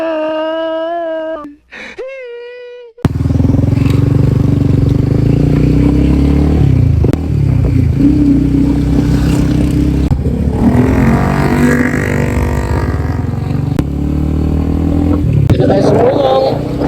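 Motorcycle engine running steadily while riding on a road, loud and continuous, with a brief quieter pause near the start before the ride resumes; a voice speaks over the engine.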